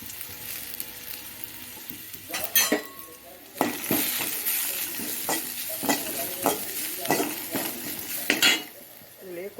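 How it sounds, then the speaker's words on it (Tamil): Spices sizzling as they sauté in a pan for rasam, with repeated scraping and clinking of a metal spoon stirring, irregular strokes, close and clear, no talking. "இதை போட்டு நல்லா வதக்கி விடுங்க"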